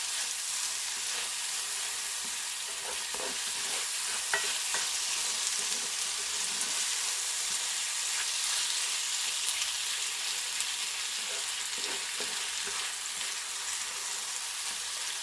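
A peach glaze bubbles and cooks down in a pan while being stirred, a continuous soft sizzle with scattered faint scraping clicks from the stirring, steady throughout with no talk.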